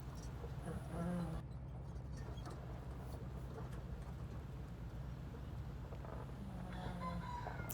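Chickens on a farm cluck, and a rooster crows faintly in the distance over a steady low background rumble, with no clear talking.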